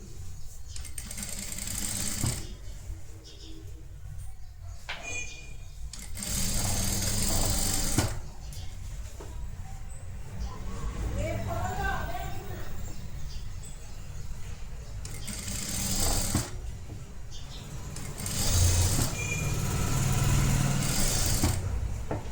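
A sewing machine stitches the neckline of a netted blouse in bursts of steady whirring, close and fairly loud, stopping and starting.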